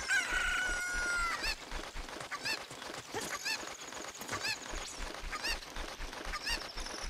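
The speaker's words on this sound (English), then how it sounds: "Let's grab this chicken here." A chicken crows and clucks in The Legend of Zelda: Ocarina of Time on the 3DS. A crowing call comes first, followed by repeated squawks and clucks over a rhythmic background game beat, with no talking.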